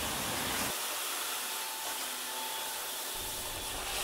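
A camper van being washed at a car wash, with a steady loud broadband hiss and spray of water jets running throughout and a lower rumble dropping out briefly midway.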